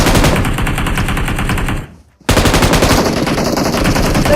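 Rapid automatic gunfire in PUBG Mobile, loud and continuous bursts that cut out briefly for a moment before resuming just as hard.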